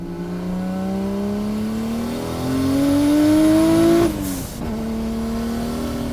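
A 650 hp RB26-powered Nissan 300ZX revs hard and loud, its pitch climbing steadily for about four seconds before a sharp cut and a lower, steadier idle-like drone.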